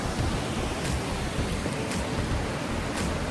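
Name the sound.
waterfalls in a cavern on the Isle of Skye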